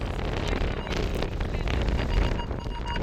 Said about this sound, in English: You see how windy it is?